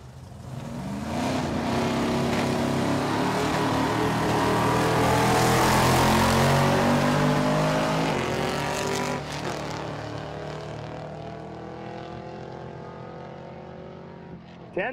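Nitrous-fed Chevelle in modified power adder making a drag racing run, a loud, sustained engine roar that builds and peaks mid-pass, then drops off as the car fades down the strip.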